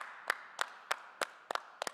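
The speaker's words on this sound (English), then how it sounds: "Let's give a big round of applause to Indy's best and brightest government honorees." Sparse, separate hand claps from a small audience for honorees at an awards event, about seven distinct claps evenly spaced rather than a full ovation.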